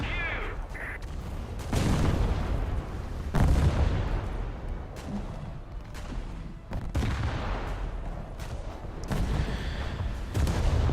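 Heavy naval guns boom repeatedly from a British heavy cruiser in a naval battle game, several loud broadband blasts recurring every second or two over a continuous rumbling background.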